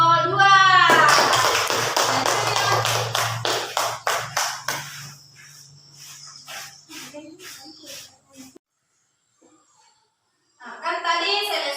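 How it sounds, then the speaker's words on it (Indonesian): Classroom of students gives a short burst of clapping for a group, fading into scattered taps and quiet, with a hum underneath and a voice speaking briefly. "tepuk tangan untuk kelompok 2"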